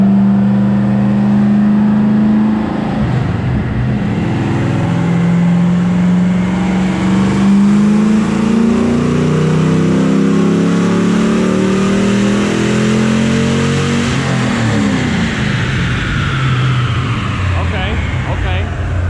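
A car on a dynamometer revs through a pull, its engine tone climbing steadily in pitch and holding a loud, sustained roar before easing off near the end, close to the microphone.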